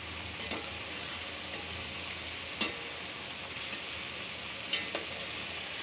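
Hilsa fish paturi, fish wrapped in leaves, cooking in a pan on the stove with a steady gentle sizzle of hot oil, broken by a few soft clicks and knocks, with no talking over it.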